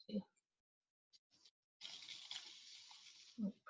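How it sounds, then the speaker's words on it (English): Art mixture poured from a measuring cup into a sock, a steady mid-high trickling pour lasting about two seconds, with soft handling noises and brief talk before and after. "You have a nice way to hold it and start pouring the mixture in."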